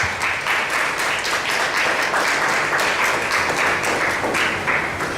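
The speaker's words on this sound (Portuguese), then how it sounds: "Dê uma grande salva de palmas ao Senhor Jesus" A church congregation breaks into loud, sustained applause, a dense wash of many hands clapping together at an even level throughout, with no voices standing out.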